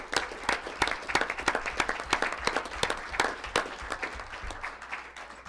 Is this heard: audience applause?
yes